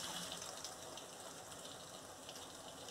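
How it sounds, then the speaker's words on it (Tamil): Water streams steadily into a pot of chana masala gravy, making a continuous close gushing, hissing pour with no talk. "அது கூடவே கொஞ்சமாக தண்ணியும் சேர்த்து வதக்கிக்கோங்க."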